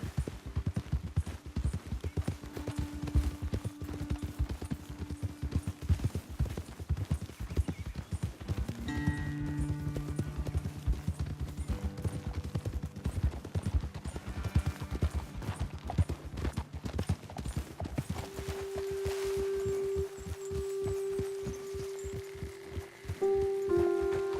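Steady clip-clop of horse hooves plodding along at an even walking pace in the video game Red Dead Redemption 2, with a soft rain-like hiss and a low background tone underneath.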